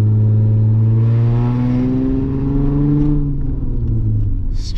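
A deep, rumbling straight-pipe exhaust on a stretched Mercedes-Benz E-Class wagon limousine burbles loudly and steadily, its low drone shifting in pitch as the engine eases off, with no voices.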